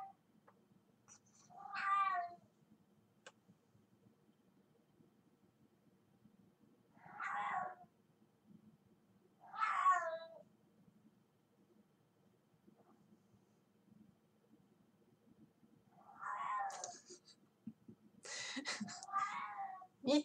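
A domestic cat meows several times at spaced intervals, each call clear and fairly close, with a quiet low hum running underneath and a louder, more drawn-out vocalization near the end.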